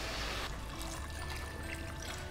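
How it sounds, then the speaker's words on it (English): Chicken stock is poured into a pan of bamboo shoots for a Vietnamese noodle soup, a steady close trickling pour running continuously over a soft background hum. "We're gonna go in with 600 mils of chicken stock or water if you don't have any handy."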